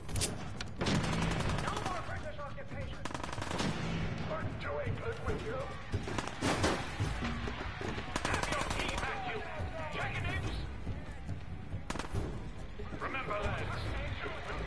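Gunfire in Fallout 4, rapid shots and bursts cracking throughout amid a dense, noisy battle mix, with voices talking over the shooting.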